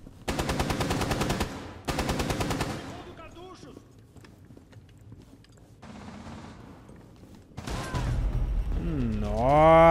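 Automatic gunfire in the tactical shooter Rainbow Six Siege, with two dense rapid bursts early, scattered shots in the middle, then another heavy burst and rising noise at the end.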